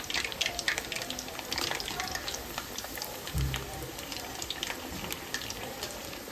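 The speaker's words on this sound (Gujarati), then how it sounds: "એકદમ ક્રિસ્પી થાય ત્યાં સુધી આપણે એને તળવાના છે" Baati dough balls frying in hot oil until crispy, a steady hiss and crackle of bubbling oil with scattered pops throughout, close and continuous.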